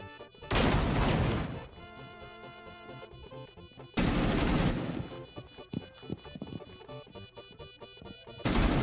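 Rapid bursts of video game gunfire crash out loudly three times, one near the start, one mid-way and one at the very end, with quieter tonal game sounds in between.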